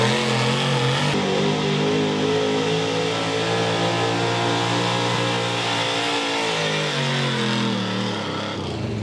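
A square-body Chevy pickup in an Outlaw Street Gas class at a county fair truck pull roars under sustained high revs, its loud gasoline engine holding a strained, steady pitch that sags slightly toward the end of the run.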